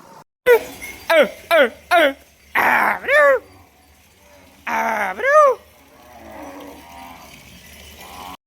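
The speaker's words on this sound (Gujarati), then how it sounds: "તમે અવાજ સાંભળી શકો છો આપણી ગાયોનો" A string of loud, close moos from sick cows in Satadhar, Gujarat: four short calls in quick succession, then longer drawn-out lowing, over a faint low hum.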